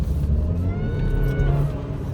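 A boosted 2013 BMW 323i engine drones and whines steadily as it accelerates, with a rising tonal whine over a low road rumble from inside the vehicle.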